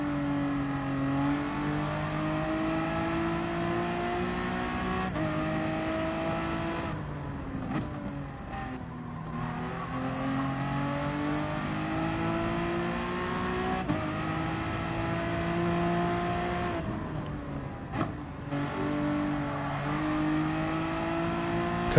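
Race car engines from Gran Turismo Sport at Brands Hatch in a Manufacturers Series race, with a continuous loud revving roar that climbs and drops through gear changes, including brief lulls and tire noise around a spin.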